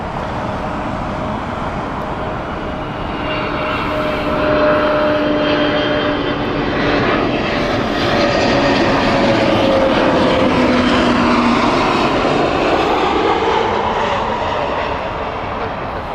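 A Lisbon-bound airliner at Heathrow Airport roars loudly and steadily, its engine tone swelling and sliding in pitch as it passes close by, with no voices over it.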